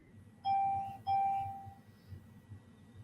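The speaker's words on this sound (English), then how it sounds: "I hear some bells ringing" Two bright bell chimes ring in quick succession, each struck tone ringing out and fading, followed by a quiet, faint background murmur.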